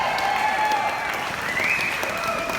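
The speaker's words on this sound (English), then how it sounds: "so a big round of applause." Wedding guests applaud in a dense, steady patter of clapping that fills the room, with voices and faint cheers mixed in under the noise.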